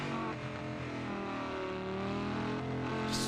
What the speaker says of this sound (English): you can hear the engine note just stalling out through the last two right-handers